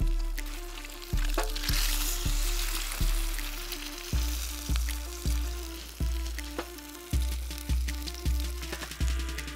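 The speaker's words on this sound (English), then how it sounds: "Now, I don't want my egg to be too messy, so I'm going to flip it over and cook it on the other side" An egg fries in a pan over a campfire in the woods, giving a steady close sizzle with a regular run of low thumps underneath and no talking.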